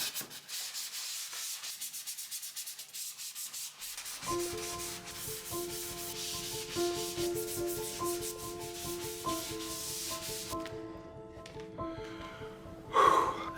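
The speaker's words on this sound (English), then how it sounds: "I sanded everything with this." Sanding of a plastered foyer wall being restored after crack repair with mud, a steady rubbing scrape running under louder background music, with a sharper burst of scraping near the end.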